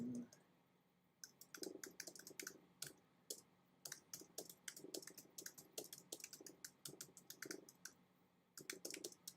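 Typing a message on a computer keyboard during a live stream setup, with rapid bursts of close key clicks separated by brief pauses.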